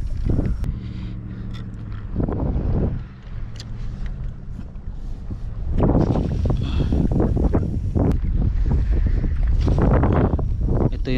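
Strong wind on a beach during a fishing session, buffeting the microphone with low rumbling gusts that rise and swell, mixed with bursts of louder rushing noise.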